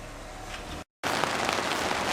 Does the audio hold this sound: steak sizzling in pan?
no